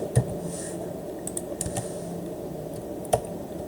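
Keystrokes on a computer keyboard while a new word is typed in, a handful of scattered clicks over quiet room tone, with a sharper tap near the start and another near the end.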